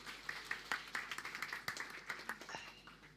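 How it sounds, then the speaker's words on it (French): Applause from a conference keynote audience thanking the technical team, a sparse patter of individual hand claps rather than a dense ovation, moderately distant and fairly quiet over a roomy background. "Applaudissez-les, s'il vous plaît"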